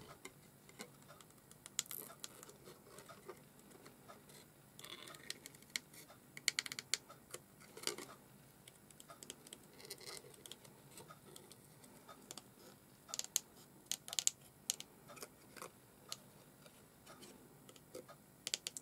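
Tonic Studios scissors snip through paper in quick, light, crisp cuts, close but quiet, coming in irregular bursts with short pauses between runs of snipping.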